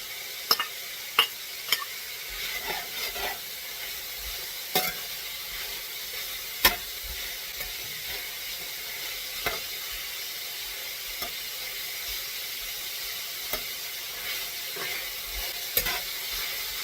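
White onion sizzles steadily in a hot pan for sticky pork, a continuous frying hiss broken by sharp scrapes and knocks of a utensil stirring at irregular intervals throughout.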